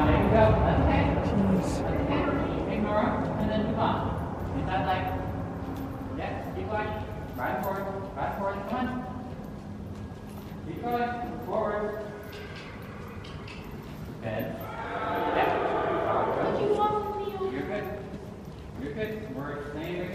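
Horse hooves clip-clop steadily during riding of a bucking bronco horse, a continuous rhythmic patter under frequent nearby talk.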